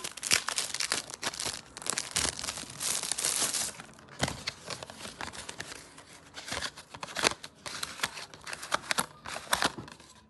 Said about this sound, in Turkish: Şimdi az önceki bu fırçayı da açacağım.